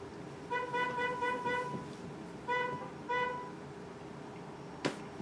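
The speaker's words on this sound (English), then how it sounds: "God said, honk your horn for emphasis." A car horn honks outside in a quick series of toots: a run of rapid beeps, then two shorter honks, moderately loud, followed by a sharp click.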